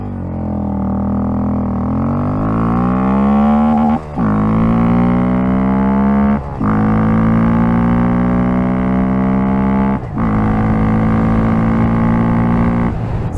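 A Honda Grom motorcycle engine revs hard and close through its gears while accelerating from 0 to 45 mph, pitch climbing to the rev limiter with brief dips at each of three shifts.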